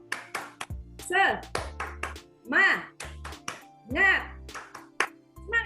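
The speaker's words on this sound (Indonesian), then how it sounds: "Tepuk semangat" A classroom of children does the Indonesian spirit clap: bursts of rhythmic hand claps in short sets, mixed with children's chanting voices and a teacher's voice leading between them.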